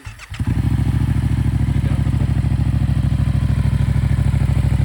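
Yamaha MT-07 A2 motorcycle with a loud non-stock exhaust starts up after a brief cranking burst, then settles into a steady, throbbing idle, close and loud throughout.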